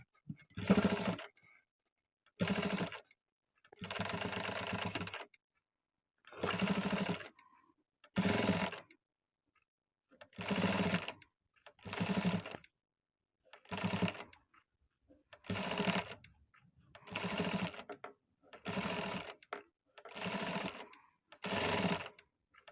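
A sewing machine stitching a fish-cut border design on fabric, running in about a dozen short bursts of rapid, steady whirring stitches separated by silent pauses, close and clear with no talk.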